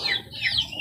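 Young pullets cluck in a coop with short, close chirpy calls overlapping in quick succession, against faint background noise.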